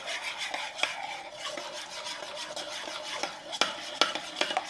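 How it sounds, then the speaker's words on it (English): A spoon stirs salt into the wet ingredients for vegan brownies in a bowl, making a steady close scraping swirl with occasional sharp clinks against the bowl's side, with no talking. "I'm going to go ahead and add my salt here so it mixes in. Just a smidge. I'm going to stir that together."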